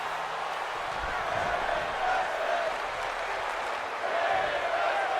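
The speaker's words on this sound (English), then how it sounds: "This is wrestling chants from the audience." A packed crowd at a professional wrestling event chants and roars in a broad, continuous wash of voices, loud and reverberant throughout the arena.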